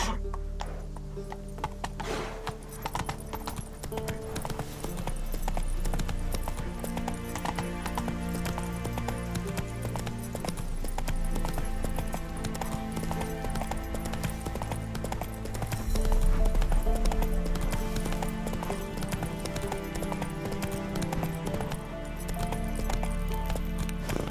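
Roach the horse gallops in The Witcher 3 video game, with steady rapid clip-clop hoofbeats running throughout, an occasional whinny, and creaking tack mixed in with the game's ambient sound.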